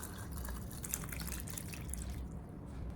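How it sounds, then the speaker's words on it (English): Boiling water is poured into a glass jar packed with tomatoes, a faint, steady liquid trickle and splash filling the jar for a few seconds with no talk. "I pour boiling water into the jar until the tomatoes are completely covered."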